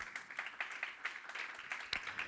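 A church congregation claps for the Lord during a sermon, a steady run of hand claps forming scattered applause at moderate distance, no talk over it.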